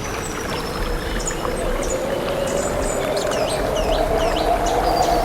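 Rushing river water pours steadily and broadly with a rising windy hiss, while birds chirp intermittently above the flow, all near and fairly loud with no voices.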